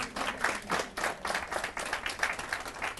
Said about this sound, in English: Can you give him a good clap offering?